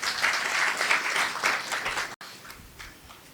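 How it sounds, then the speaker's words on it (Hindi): An audience of devotees at a kirtan gathering breaks into applause, dense clapping filling the room for about two seconds, then cutting off briefly before quieter scattered claps trail on. "तो सारे आप भक्तों के लिए एक ताली बजाओ।"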